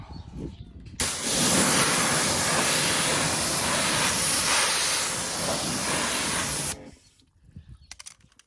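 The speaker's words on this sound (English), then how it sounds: "Right, let's give that a little rinse down." A strong water spray rinses a Citroën DS3 after a citrus pre-wash, a loud, steady hissing rush that runs for nearly six seconds and then cuts off abruptly.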